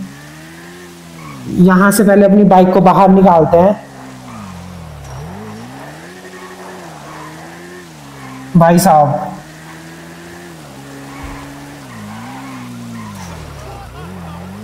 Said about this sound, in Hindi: थोड़ा इसके टायर का ड्रिफ्ट मार के देखें क्या भाई